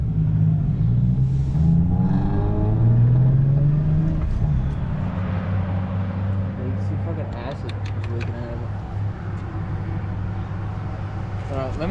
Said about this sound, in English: Dude's a ricer, revving it, trying to keep it alive.